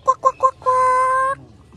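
Birds calling at a zoo: three short, quick honking calls followed by one longer sustained call, close and clear, with little else around.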